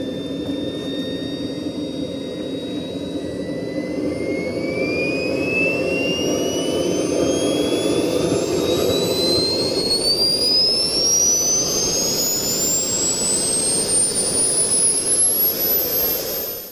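A Hammer Jet Max model jet turbine spins up with a loud, rising whine over a steady roaring rush, the pitch climbing continuously throughout as it starts and runs close by.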